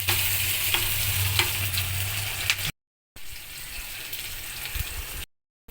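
Onions and green chilies frying in a pan, a steady close sizzle with occasional stirring scrapes, broken by two brief silent gaps.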